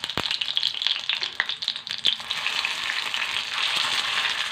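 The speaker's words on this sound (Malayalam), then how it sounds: "നമുക്ക് മൂടി എടുത്ത് ചെറുങ്ങനെ മറിച്ച് എല്ലാ സൈഡും മുരിച്ചെടുക്കാം" Sago (sabudana) snack frying in oil in a covered pan, a steady close sizzle and crackle with a few sharp pops near the start.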